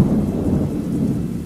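Thunderstorm with heavy rain, a dense, steady roar of downpour with deep rumbling thunder underneath, loud and continuous throughout with no voices.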